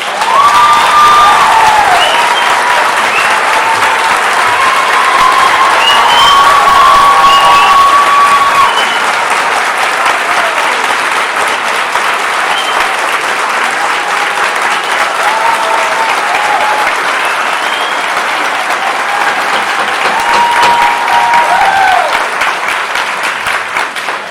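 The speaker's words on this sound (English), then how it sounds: "the applause it just makes the meeting go longer" Loud, sustained applause from a crowd at a public meeting about Planned Parenthood of Kissimmee, a dense wash of clapping that runs for over twenty seconds with a few brief voices rising through it.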